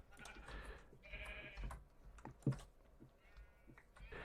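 A few short goat bleats rise out of a busy Minecraft soundtrack, mixed with soft clicking and a sharp thump midway.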